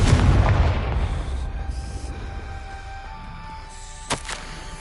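A Confringo blasting spell explodes in the Hogwarts Legacy video game, inside a maze: a heavy booming burst opens loud and rumbling, then fades into a low ambient drone, with a short sharp crack near the end.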